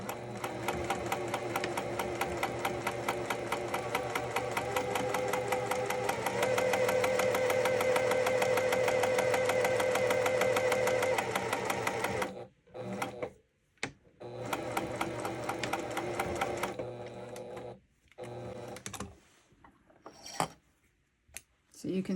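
A sewing machine back stitching a pillow seam runs steadily with a fast, even whir for about twelve seconds, then breaks into short stop-start bursts; a voice speaks faintly underneath.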